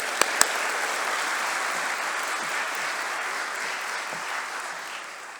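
Applause from a large audience at a White Coat Ceremony for the Class of 2025, a steady, even roar of clapping that holds throughout, with two sharp taps near the start.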